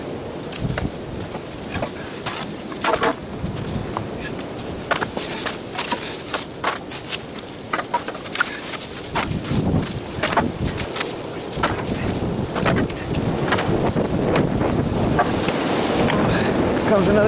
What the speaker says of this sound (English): Comes another gust.